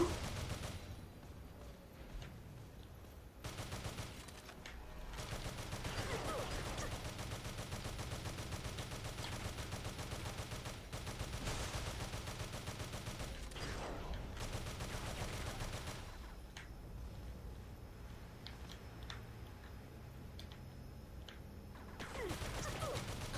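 Enemy gunfire in the video game Earth Defense Force: Iron Rain, a steady sustained barrage of rapid shots and mechanical clatter running continuously, dense and loud, with no voices over it.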